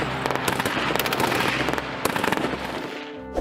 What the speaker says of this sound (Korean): 정적을 깨는 총소리. 20명은 좋게 되는 군인들이 벙커에 사격을 하기 시작했죠.